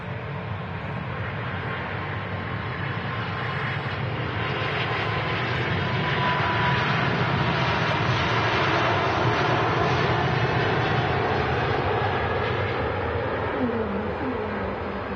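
A jet airliner takes off from runway 05 left at Manchester Airport, a loud sustained engine roar that builds and holds steady for the whole stretch.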